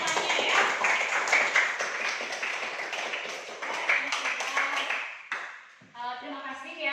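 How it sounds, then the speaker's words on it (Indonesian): A classroom full of people clapping after a presentation, steady and lively for about five seconds before fading out, then a voice begins talking. "mari kita berikan tepuk tangan dulu"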